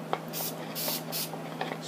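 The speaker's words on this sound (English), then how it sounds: "Spray it a couple of times, keep it lubricated." Several short hissing bursts of spray lubricant on a Japanese-made manual pipe threader, fairly quiet, with brief gaps between the squirts.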